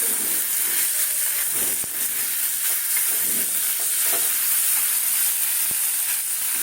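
Whole cumin seeds sizzle in hot oil in a pan, a steady close crackling hiss that runs unbroken throughout with small stirring clicks and no speech.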